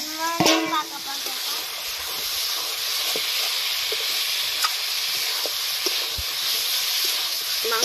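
Chicken meat frying in oil for chicken kanti, a steady close sizzle with intermittent clinks and scrapes of stirring, and a brief voice near the start.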